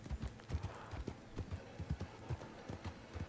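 Horse hooves clip-clop in Red Dead Online, a steady uneven trot of close, soft thuds running the whole time, with a faint snort near the end.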